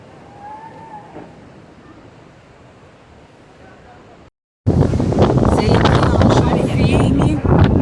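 Strong wind near the Eiffel Tower buffeting the microphone, a softer gusty hiss at first, then after a brief cut a loud, rough, roaring rush of wind that fills the rest of the recording.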